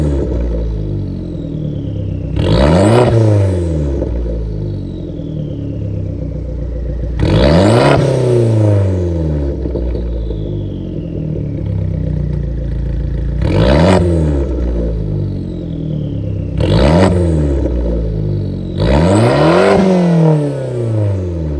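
An Italian car's engine with a resonator exhaust revs repeatedly, five sharp climbs that fall back to a steady idle between them, loud and close, with no talk.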